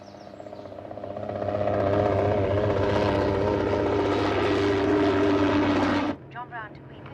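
A helicopter engine and rotor drone swell up loudly and hold steady for several seconds before cutting off abruptly, followed by faint muffled sounds; a voice can be heard over it.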